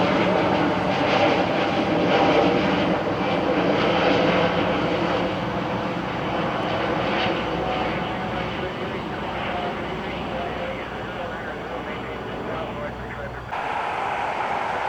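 Jet engines of an MD-83 airliner on an Aeronaves flight to Shreveport roar steadily and loudly at an airport, a broad sustained rumble that holds for the whole stretch and shifts slightly near the end.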